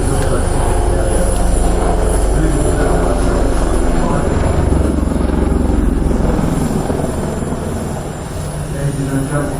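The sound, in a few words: Tiger multi-role attack helicopter flying at air show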